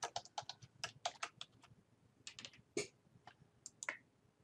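Quiet computer keyboard typing a short name, a run of crisp individual keystrokes at an irregular rhythm, close and alone without talk.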